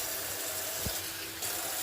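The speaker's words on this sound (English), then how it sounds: "You're gonna put a little bit of water," Water pours steadily into a cooking pan in a continuous, faint splashing rush, nearby and briefly, with no voices.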